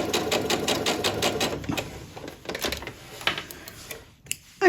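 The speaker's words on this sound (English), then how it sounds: "I also checked that my sewing machine was stitching nicely before I started." A sewing machine stitches fabric in a rapid, even run of mechanical clicks and hum, close up, slowing and stopping near the end with a brief clunk.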